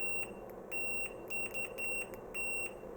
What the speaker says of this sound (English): There is also beeper function.